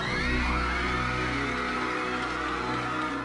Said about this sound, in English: Crowds were going crazy